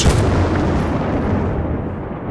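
A heavy gunshot and explosion in the military shooter Battlefield: Bad Company 2 erupts loud and close at the start, then rolls off into a long, decaying rumble with no talking.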